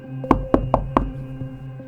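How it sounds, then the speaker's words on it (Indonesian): Knocking on the front door of a simple village house: four sharp knocks in an uneven rhythm, close and clear, followed by a couple of fainter taps against a quiet background. "mengetuk pintu rumah, memanggil pemiliknya"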